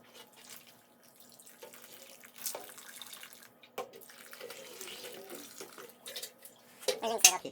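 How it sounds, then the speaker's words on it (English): Water poured onto potting mix in a homemade self-wicking planter, a soft continuous trickle and splash that comes and goes, rising to a louder burst near the end. "So I'll be watering them continually as I soak this up."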